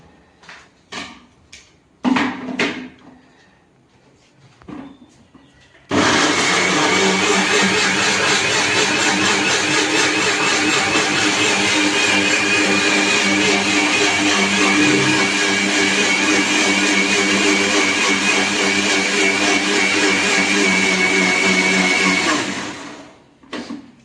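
A mixer grinder blends a banana smoothie in a kitchen, starting abruptly after a few scattered knocks and roaring loudly and steadily for about seventeen seconds before winding down.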